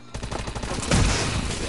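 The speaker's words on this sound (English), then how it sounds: "is this like a ray gun?" Ray gun firing in a zombie-shooting video game, a quick run of rhythmic blasts followed by a heavier, swelling discharge, loud and close.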